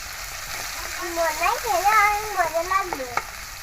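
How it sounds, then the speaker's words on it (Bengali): Chopped onion and garlic fry in a pan with cumin, a steady sizzle running throughout while a voice with a sing-song, melodic tone carries over the middle of the sizzle. "তো এবারে রসুন কুচি দিয়ে দেব।"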